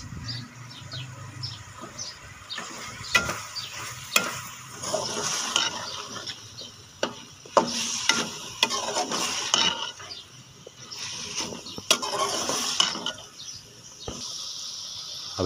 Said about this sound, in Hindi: अब इसमें शिमला मिर्च बारीक कटी हुई ऐड कर देंगे।